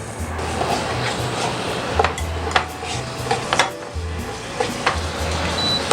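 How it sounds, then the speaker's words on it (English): Melted caramel being scraped from a bowl into a pan while making Rice Krispies treats, with repeated scrapes and sharp utensil clinks against the bowl over a low steady rumble. "I'm going to try to scrape a bit of the bowl off"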